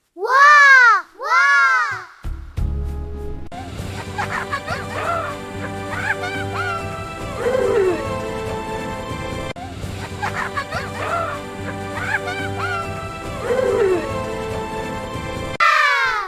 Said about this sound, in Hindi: ये रोने की आवाज है। लेकिन कौन है?